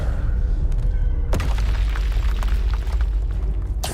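A Confringo spell blast in Hogwarts Legacy: a loud, close booming explosion that hits sharply and then rolls on as a dense rumble, with smaller crackling bursts trailing after it.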